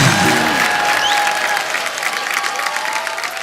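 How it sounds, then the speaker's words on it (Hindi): Applause from a TV comedy show studio audience, loud and dense at first, then thinning into scattered clapping, with a faint tonal hum running underneath. "इसके लिए तो पहले तालियां बनती है।"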